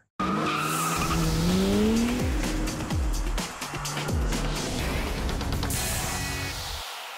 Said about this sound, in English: So let's roll in the Porsche Cayman R.